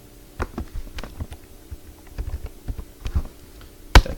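Someone types a short code on a computer keyboard, with irregular clicking keystrokes in small bursts, close and fairly crisp, ending with one louder key press.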